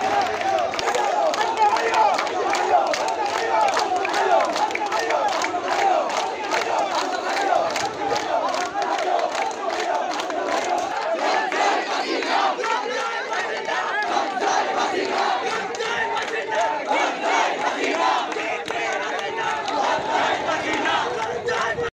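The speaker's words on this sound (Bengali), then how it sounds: "এই সময় শিক্ষার্থী হল এড়ে বিভিন্ন স্লোগান দিতে থাকে।" Protesting students chant slogans at a street rally, a dense crowd roaring in steady rhythmic bursts for the whole stretch, loud and close, with shouted voices blending into the chanting.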